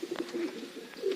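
Pigeons kept for training give soft, low repeated coos at close range, quiet and intermittent over faint background noise.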